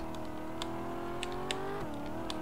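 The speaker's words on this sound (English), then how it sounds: "This car drifts really well." A car drifting in the racing video game Vehicle Legends gives a steady engine drone with rising whine, scattered tire squeal chirps and a brief dip near the end, loud and continuous without talk.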